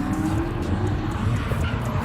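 An SC-powered car drifting at a drift event at a speedway in Apple Valley, its engine roaring loud and steady with tire squeal mixed in throughout a short burst.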